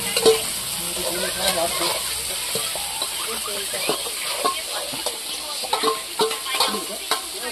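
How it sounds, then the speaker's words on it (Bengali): Jute leaves fry with fried onion in a pan, giving a continuous close sizzle broken by frequent scraping stir strokes, and a voice speaks briefly. "এবারে পেঁয়াজের সঙ্গে শাকটা সুন্দর করে নাড়িয়ে মিশিয়ে নিতে হবে।"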